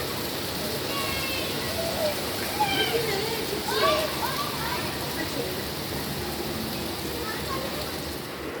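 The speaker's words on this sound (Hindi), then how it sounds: "लगी है झमाझम बारिश" Heavy monsoon rain pours steadily outside a home, a constant hiss of water on surfaces, with children's voices and bird-like calls rising faintly over the downpour.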